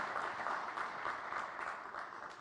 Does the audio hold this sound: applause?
yes